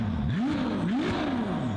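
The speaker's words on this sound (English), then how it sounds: "If Ferrari can keep making V6s that sound like this," A Ferrari V6 engine revs in quick rising and falling sweeps, a snarling pitch climbing and dropping twice within a couple of seconds, moderately loud and close.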